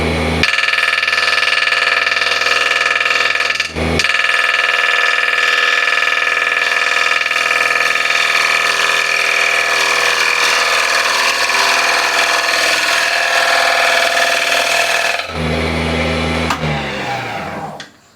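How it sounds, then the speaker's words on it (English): A woodturning gouge cuts into a spinning workpiece on a lathe, making a loud, steady whine with strong tonal hum. It briefly dips near the start, then the motor winds down at the end. No one speaks. "So just adjust your gouge, your position, left and right, to get a deeper cut or shallower cut."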